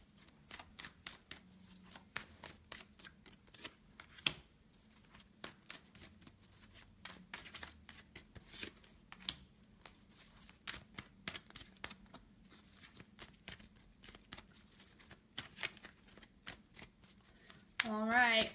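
Tarot cards being shuffled at close range in a run of soft, rapid riffles and taps, fairly faint, with a voice briefly at the end.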